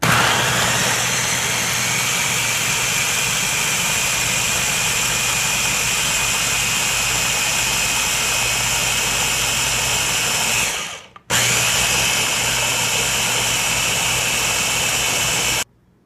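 A blender purees a smoothie of soaked almonds with strawberry and mint, a loud continuous high-pitched whir that cuts out briefly, restarts and then stops near the end.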